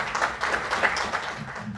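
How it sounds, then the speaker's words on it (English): Round of applause at an anniversary celebration in Qatar, moderate scattered clapping from a small audience, fairly faint and brief. "Please give a round of applause."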